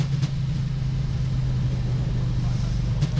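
Boeing 737 MAX engines spooling in reverse thrust on the runway after landing at London Heathrow, heard from the cockpit as a steady, loud low roar with a constant hum throughout.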